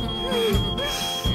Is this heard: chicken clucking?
no